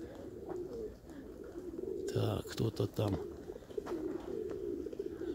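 Pigeons cooing softly in a rooftop loft on a sunny day, low repeated coos running throughout with a louder burst of cooing and flutter midway, while someone speaks briefly.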